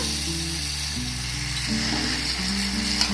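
Poa pitha batter of flour and semolina frying in hot oil, a steady close sizzle throughout with low bubbling crackle and no voices.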